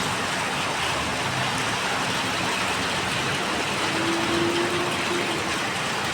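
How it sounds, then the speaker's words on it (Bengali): Heavy rain pours steadily in a dense, even wash of sound, loud and continuous throughout with no voices and a brief faint hum partway through. "দেখেন বৃষ্টি কেমন বৃষ্টি হইতেছে"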